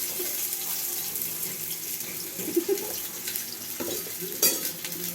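Onions sizzling in hot oil in a home kitchen pan, with a steady, fairly loud frying hiss and occasional stirring clinks close by, and no talking.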